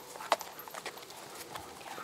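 Horse hooves clip-clopping at a riding stable: soft, irregular hoof falls at a slow walking pace, one sharper strike early on, fairly faint against a quiet outdoor background.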